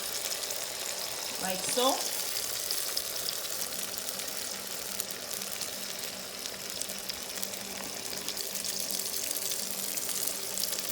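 An egg fries in a pan for a Gambian-style breakfast, giving a steady soft sizzle and bubbling throughout, with a brief voice speaking over it.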